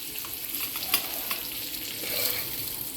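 Mackerel fries in a pan for a Bengali-style dish, giving a steady, close hiss of sizzling oil with scattered small pops and crackles throughout.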